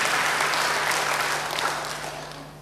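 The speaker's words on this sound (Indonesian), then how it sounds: "Beri tepuk tangan untuk ayat yang luar biasa ini." A church congregation bursts into dense, sustained applause during a Christmas sermon, a full wash of clapping that slowly fades toward the end.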